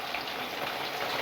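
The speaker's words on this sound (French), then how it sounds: "nous faisons frire notre poisson" Sea bass frying in a pan with potatoes nearby, a steady, even crackle and hiss close by, with no voices.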